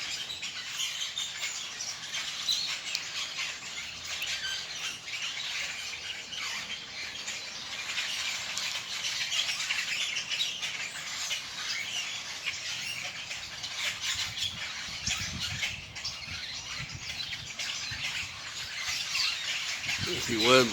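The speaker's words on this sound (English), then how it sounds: "I do a little audio recording of the birds." Many birds chirp and squeak busily outdoors, a dense, steady chorus of small high calls lasting throughout with no talking.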